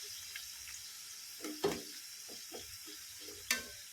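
Potato pieces for Tamil-style potato chips are turned gently in a pan over a low flame, a soft, quiet sizzle with a few light scrapes and knocks of the spoon, close and alone.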